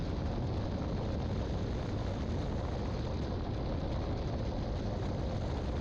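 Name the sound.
small airplane engine while landing on a runway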